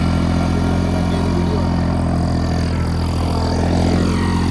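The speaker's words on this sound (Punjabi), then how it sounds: "ਇਹ ਦੇਖੋ ਜ਼ਿਮੀਦਾਰ ਦੇ ਖੇਤ ਚੱਲੀ ਜਾਂਦਾ ਟਰੈਕਟਰ" A Massey 9500 four-wheel-drive diesel tractor runs steadily and loud in a field with a super seeder, a constant low rumbling chug with no talk over it.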